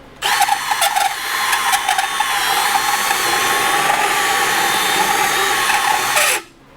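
A countersink bit spinning in a power tool, being used while installing a Givi top case brake light kit, gives a steady loud whine that starts abruptly, holds for about six seconds and cuts off, with a few brief clicks early on.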